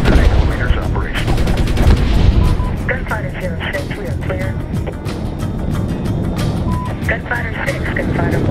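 A helicopter's 30 mm cannon is test-fired in the combat game Medal of Honor (2010): rapid, loud bursts of gunfire over steady rotor and engine rumble, with radio-style voices talking throughout.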